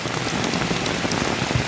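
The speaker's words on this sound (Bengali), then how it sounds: "প্রায় আধা ঘন্টা এই বৃষ্টি হচ্ছে" Heavy monsoon rain falling steadily outdoors: a dense, continuous hiss of drops on surfaces, loud and even throughout with no voices.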